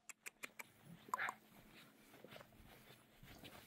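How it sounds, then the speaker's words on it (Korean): Village dogs near a small seaside lookout on a quiet island walking trail bark in a quick series of four sharp, fairly close yaps, followed by a louder cry and faint scattered noises. "다만 동네 강아지들이 꽤 짖네요"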